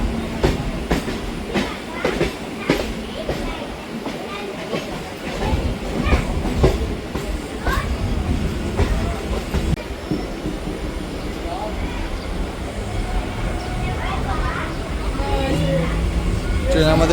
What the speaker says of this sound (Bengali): ট্রেন আমাদের এখন এন্টার করছে হলো পার্ক সার্কাস স্টেশন।